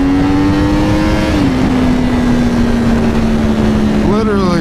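A Yamaha R1 motorcycle engine roars and climbs in pitch, dips at a gear change, then revs up again, loud and continuous under steady wind noise as the bike accelerates hard.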